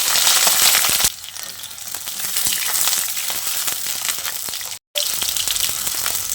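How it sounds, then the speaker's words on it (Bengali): Eggplant pieces fry in hot oil, loud close crackling and hissing throughout, dropping briefly quieter after a second and cutting out for a moment before resuming at full strength. "এবার আমি বেগুনগুলো ভেজে নেব।"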